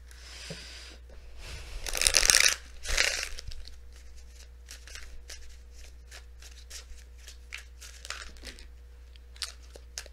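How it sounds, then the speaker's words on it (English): Tarot cards are riffled and shuffled, two loud bursts followed by a run of quick soft snaps and flicks over a low steady hum. "We'll give this a couple more shuffles."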